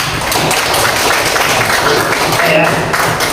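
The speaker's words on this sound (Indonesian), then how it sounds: "Silakan untuk kelompok A, beri tepuk tangannya." A classroom group applauds Group A with a steady wash of clapping that stays dense and even from start to finish, with some voices mixed in.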